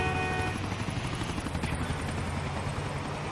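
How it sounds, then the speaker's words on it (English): A helicopter's steady rotor drone in GTA hums throughout, fairly faint and constant, as if passing at some distance. "Now, helicopter's just gone past."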